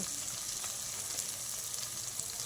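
Masala sizzles and crackles in a pan as it is sautéed for a potato and paneer curry, a soft, steady hiss with faint stirring.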